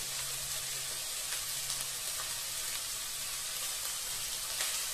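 Chicken pieces sizzle steadily in a pan with onions as they are stirred, a continuous soft frying hiss with faint scraping, close by and with no talk.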